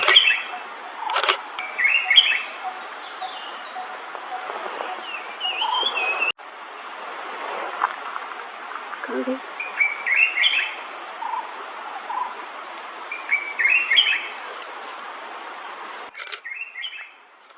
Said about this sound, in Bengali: বুলবুলের সাথে সাথে একই গাছে দেখতে পেলাম স্মল মিনিভেট এবং ঠিক বিল্ড ফ্লাওয়ার পেকার পাখি